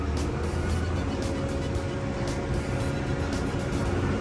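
A Hitachi LX100 wheel loader's engine runs in first gear, a continuous loud, close diesel drone with a steady hum, no talk heard.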